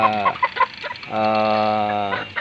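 Kelso White chickens in a backyard coop give a few short clucks, then a longer drawn-out call, close and fairly loud, with no talking over them.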